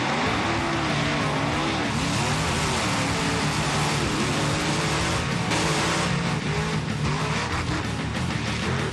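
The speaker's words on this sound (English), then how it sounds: "The trucks line up nose to nose." Monster trucks racing nose to nose on a track, loud continuous engine roar with squealing, skidding tires and revving surges, dense and unbroken with no voices.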